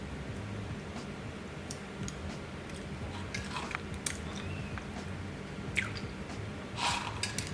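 Small caramel candies being chewed close up, soft sticky clicks and squishes scattered irregularly over a quiet background, no talking.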